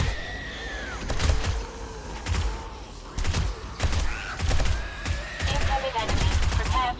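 Submachine gun fire with armor-piercing rounds in the zombie survival game 7 Days to Die, sounding as repeated sharp bursts of shots amid thuds and mechanical clatter, with faint tonal game sounds in the background.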